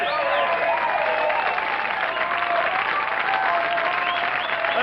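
Audience applause after a song in a live show, a steady dense clapping that fills the whole stretch at an even loudness, with a little crowd noise blended in.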